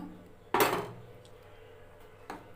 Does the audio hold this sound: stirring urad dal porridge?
yes